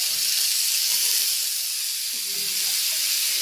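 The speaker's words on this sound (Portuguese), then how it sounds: "Aí agora vai colocar os hambúrguer. Agora nós vamos fritar" Homemade hamburger patties frying in oil, a loud, steady, broadband hiss and sizzle that carries on without a break, close by.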